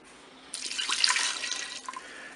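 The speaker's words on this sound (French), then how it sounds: "je vais mettre mes 300 millilitres d'eau" Water, 300 ml, is poured into a Cookeo pressure cooker bowl holding potatoes, a close, steady splashing stream that starts abruptly and runs for about two seconds before tapering off.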